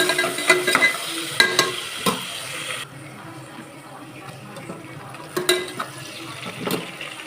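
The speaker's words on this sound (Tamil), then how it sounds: "இஞ்சி பூண்டு பேஸ்ட் ஆட் பண்ணிட்டு நல்லா வதங்கி விட்டுக்கலாம்." Onions fry with ginger garlic paste for mutton biryani, a soft continuous sizzle broken by scattered stirring scrapes and clinks of a spoon against the pan.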